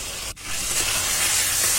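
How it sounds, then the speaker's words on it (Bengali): Eggplant and tomato sautéing in hot oil give off a steady, dense sizzle, briefly dipping near the start before carrying on evenly and close. "বেগুন টমেটোটাকে ভালো করে তেলের মধ্যে কষিয়ে নিচ্ছি"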